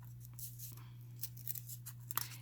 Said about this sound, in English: take a pair of pointy scissors and just cut this center out